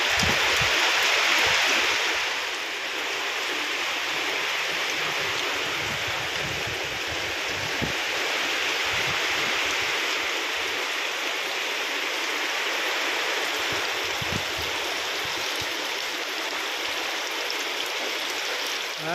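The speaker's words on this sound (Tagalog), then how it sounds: "Mayroon na tayong ilog." After heavy rain and wind, a swollen river of water rushes steadily past a hut on a farm, a constant close roar of flowing water with no talking.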